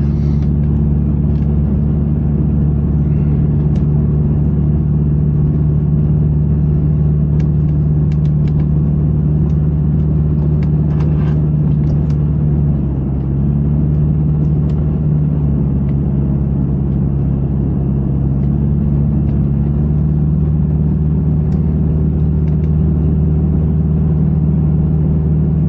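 Steady, loud low engine rumble from inside a car crawling through heavy road traffic, a continuous drone with faint ticks and clicks over it and no talking.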